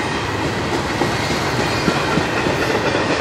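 A long CSX freight train led by NS, UP and BNSF engines with a DPU rumbles past close by as it rounds a hairpin curve, a loud, steady roar with rhythmic wheel clatter throughout.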